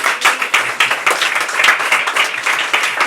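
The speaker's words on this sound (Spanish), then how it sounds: "pues aplaudimos de nuevo a David, que lo ha hecho súper bien." Clapping from a small, close audience after a science talk at Ciencia en Bulebar, brisk and continuous with individual hand claps clearly distinguishable throughout the short burst.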